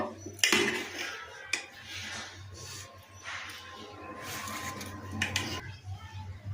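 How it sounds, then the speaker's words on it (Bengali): Dishes and utensils clink and clatter as a plate of food offerings is arranged by hand, with a sharp knock near the start and scattered scraping and tapping throughout, close by and moderately loud. "আজকে আমি ভগবানের ভোগের থালি সাজিয়ে নিচ্ছি।"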